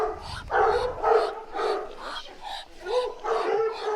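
Hounds of the kind kept for hunting with horse and pack bark in quick, loud bursts about every half second, a close, busy chorus with faint whining between barks.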